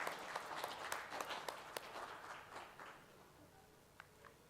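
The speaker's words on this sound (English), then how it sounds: "another round of applause to Vinayak and his team" Faint audience applause for Vinayak and his team after a keynote address, a brief burst of clapping that fades away over a few seconds, leaving only a couple of scattered claps in a quiet room.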